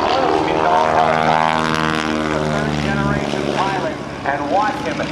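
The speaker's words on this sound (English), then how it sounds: "watch him as he takes this stock Stearman through the skies here at Naval Air Station Oceana" A stock Stearman biplane flies at the Naval Air Station Oceana airshow with a steady, droning propeller engine roar that slowly changes pitch as it passes, loud under an announcer's continuous commentary.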